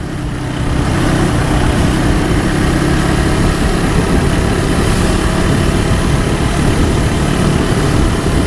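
A 2025 KTM 390 Adventure X motorcycle engine runs loud and steady on the highway, a continuous low rumble with wind noise and no pauses.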